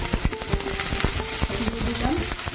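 Onions frying in a hot tempering of fennel and cumin seeds in oil, a close, dense crackling sizzle with rapid pops and spits throughout, and a faint voice briefly underneath.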